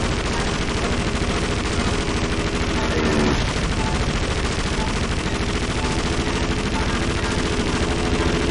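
Machine-gun fire rattles nonstop from aircraft in Indiana Jones and the Emperor's Tomb, a loud, dense stream of rapid shots running the whole stretch with no breaks.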